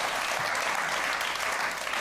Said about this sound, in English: A round of applause for the great Barry Cryer.